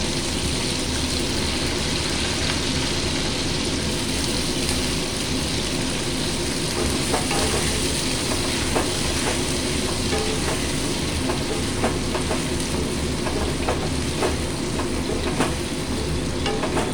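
Potato and cauliflower pieces fry in hot oil with bay leaf and whole garam masala for a Bengali vetki fish jhol, giving a steady, close sizzle with scattered scrapes and clicks from stirring throughout.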